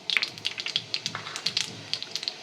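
Mustard and cumin seeds sizzling and popping in about two tablespoons of hot oil in a kadai, giving a steady run of sharp crackles and spits close up, with no talk.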